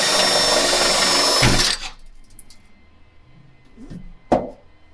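A power drill bores a hole through the hood of a 2022 Toyota Tacoma, a loud steady whirring grind that stops suddenly, followed by quiet handling noises and a sharp metallic tap.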